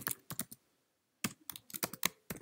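Code is typed on a computer keyboard in close, crisp bursts of key clicks, with a short pause before a quicker run of taps resumes.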